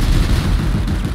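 Gunfire from a video game, a brief burst of rapid, booming shots, loud and close, lasting about a second.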